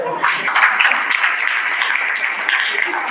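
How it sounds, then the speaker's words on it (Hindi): A church congregation claps loudly and continuously, a dense steady wash of applause filling the room for the whole stretch. "ताली बजाओ जोर से।"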